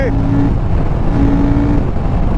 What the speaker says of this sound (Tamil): அந்த இன்ஜின் சவுண்டு ஈக்குவலாக இருக்குது